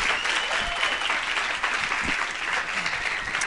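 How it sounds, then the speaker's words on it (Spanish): A live audience gives a steady round of applause welcoming Esteban, the speaker at a Christian youth ministry gathering, with dense, even clapping held throughout and no talk over it. "Recibimos con un fuerte aplauso a Esteban"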